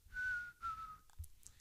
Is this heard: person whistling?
yes